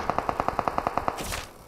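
Automatic gunfire in the BGMI mobile battle royale, about ten rapid, evenly spaced shots in a tight burst, loud and close, followed by a brief louder crash of noise at the end.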